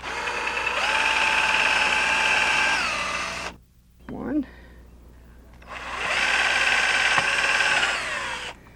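A cordless drill drives into a vinyl boat rub rail in two long, steady whirring bursts, winding up and slowing down, with a brief spoken word between them.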